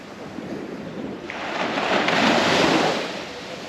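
Surf rolling onto a Caribbean beach at Jolly Beach, a soft wash of breaking waves that swells up and then fades, heard alone without voices.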